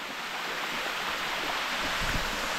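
Steady rushing water at the Sticky Waterfalls near Chiang Mai, a broad, constant roar of flowing cascade heard close and loud with no voices.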